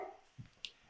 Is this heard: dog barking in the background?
yes